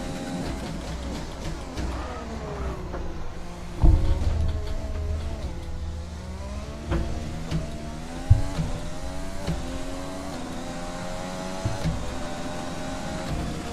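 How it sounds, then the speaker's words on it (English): Race cars in an F1 2020 online multiplayer race, a steady engine whine with shifting pitch as the player's car drives, joined by another car passing with rising and falling revs, plus a few thumps. "I hear a car."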